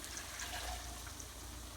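Water drained from cooked greens is poured into a mixer jar to rinse it, giving a soft, quiet trickle and splash that runs continuously for a moment.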